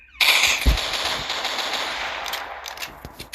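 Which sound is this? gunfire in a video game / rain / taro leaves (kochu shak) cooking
gunfire in a video game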